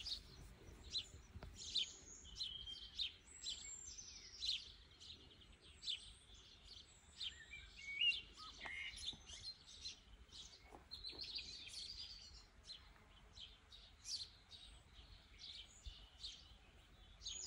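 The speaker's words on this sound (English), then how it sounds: "just enjoy the birdsong" Birds sing and chirp outdoors near an old cottage on a hot day, a steady stream of quick, high tweets and trills, fairly distant and soft, with no talking.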